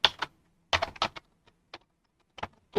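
Computer keyboard typing in short bursts of quick keystrokes separated by pauses, close and clear with no talking.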